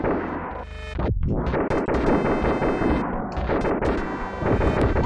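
Gunfire in the SNES run-and-gun game Gunforce: dense, loud, continuous bursts of rapid shots and blasts that run for the whole stretch after a brief lull at the start.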